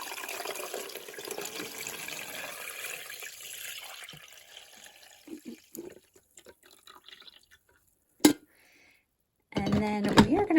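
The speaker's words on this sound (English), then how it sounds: "so you are going to pour your water into here." Water pours into the reservoir of a Cuisinart coffee maker, a steady splashing stream for several seconds that thins into scattered drips and small clinks, followed by a closer burst of sound at the end.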